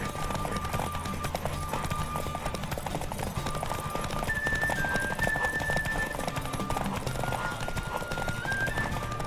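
A horse galloping in a race in The Witcher 3, its hooves clip-clopping in a fast, steady rhythm throughout, with brief whinnies and a tonal whistle-like sound layered over the galloping.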